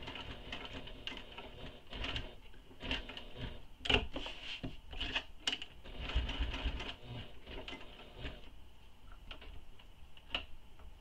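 A sewing machine top stitches along a backpack, running in quiet, stop-start bursts of rapid ticking with scattered clicks and taps between them, fairly close and low in level.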